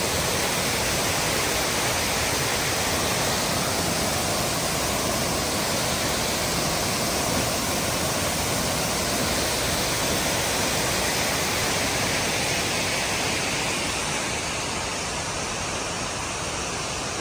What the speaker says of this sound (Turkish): Evet, Tortum Şelalesi.